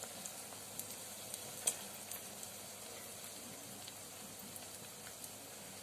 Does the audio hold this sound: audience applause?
no